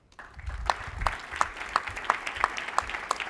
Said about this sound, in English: I would like all of you to give them a big round of applause